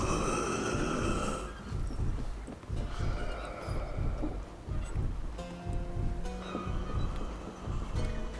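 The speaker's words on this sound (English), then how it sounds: "Sounds like Charon's breathing up ahead." Heavy rasping breathing of Charon, the ferryman in Hades, a steady snore-like rhythm repeating close by over a low, continuous ambient game backdrop.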